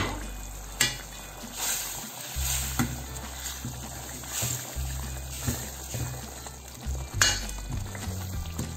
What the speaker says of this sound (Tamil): 5 நிமிஷம் எப்படி கொதிச்சுட்டு இருக்கு